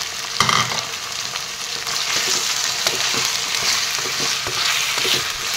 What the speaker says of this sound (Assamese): ইয়াৰ ওপৰত এতিয়া মাংসখিনি দি দিলোঁ।